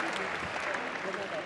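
An audience at a bowling World Cup match applauds, a brief, fairly faint wash of clapping with a voice talking over it.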